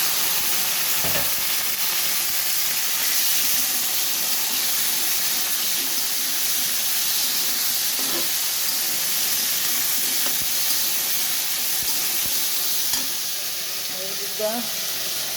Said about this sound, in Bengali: এখন ভেন্ডিগুলো দিয়ে দিতেছি।